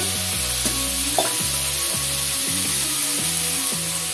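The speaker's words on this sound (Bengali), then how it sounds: "সবজিটা ভাজা ভাজা হয়ে গেছে" Vegetables frying in a pan in a home kitchen, a steady close sizzle with repeated scraping strokes of a spatula stirring at a regular pace, no talk.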